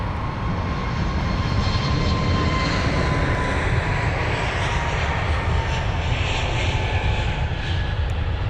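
A TAP Air Portugal Airbus A321neo jet at London Heathrow gives a strong, steady engine roar that swells slightly as it moves, heard alone with no talking.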